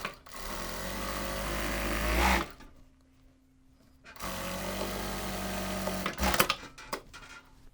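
A sewing machine stitches the back centre seam of a Chanel-style jacket with its lining, running in two steady bursts separated by a pause, close and fairly loud, with no talking.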